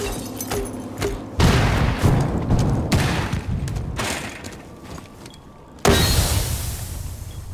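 Gunfire and loud impacts in the tactical shooter Rainbow Six Siege, with a few abrupt booming bursts separated by quieter stretches of crackling shots, close and loud.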